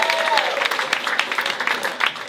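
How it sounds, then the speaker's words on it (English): Audience applause at a comedy club fills the room steadily for about two seconds, dense clapping with a few sharper claps near the end, close and fairly loud with no words spoken. "Meg, clap it up for Meg, everybody."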